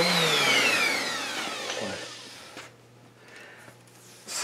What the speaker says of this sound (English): And then I guess go to the router.